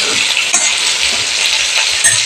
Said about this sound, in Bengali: টমেটোটা আলুর সাথে আমি একটু ভালো করে নেড়ে নিয়ে